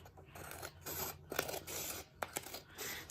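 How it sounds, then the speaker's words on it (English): Scissors cut along the edge of a sheet of paper while a paper fortune teller is being made, a series of close, crisp snips and scraping slides in an uneven rhythm, with no talking. "I am going to use my scissors for that. So I'm cutting right along the edge."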